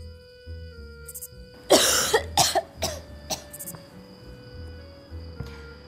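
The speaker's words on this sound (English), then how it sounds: "Emily has a cough." A person coughs several times in a row, a close, sharp cluster of hacking bursts with short pauses between, set against a quiet background.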